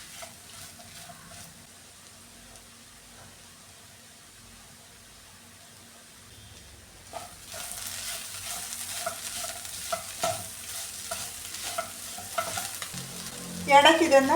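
Curry leaves and ivy gourd stir-fry in a pan: a quiet, low background first, then a louder crackling sizzle with scattered stirring clatter that lasts to the end.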